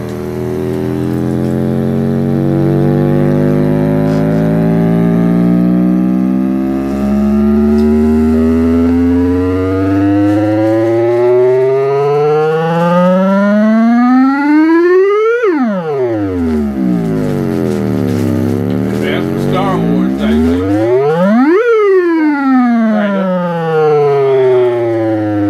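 Alarm siren from a Conion C-126F boombox cassette radio running on batteries, loud and continuous, with rising and falling sweeping wails that climb, drop and repeat several times.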